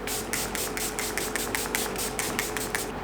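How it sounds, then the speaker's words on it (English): A rapid series of short hissing sprays from a face mist bottle, about a dozen quick bursts in a steady rhythm, close by over a low background hum. "I'm just gonna hold my breath and spray this."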